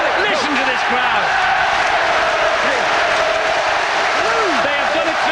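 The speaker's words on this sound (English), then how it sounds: "Listen to this crowd." Large rugby league stadium crowd at a St Helens versus Wigan match, a dense, continuous roar of cheering filling the whole clip, loud and unbroken, with a commentator's voice mixed in.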